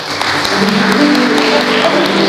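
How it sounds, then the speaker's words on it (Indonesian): A church congregation claps loudly and continuously while a voice talks over the applause. "Tepuk tangan yang meriah bagi Tuhan Yesus."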